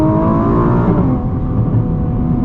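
A 2021 Nissan GT-R Premium's engine pulls hard under acceleration, heard from inside the cabin as a loud, steady, rising roar with dense harmonics that holds for the whole stretch without a break.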